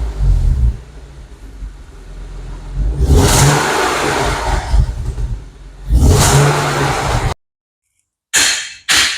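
A BMW M50B30 stroker engine, recently with water in its cylinders and still slightly lumpy, revs up loudly in two strong bursts, falling back between them, then cuts out briefly before a final short rev.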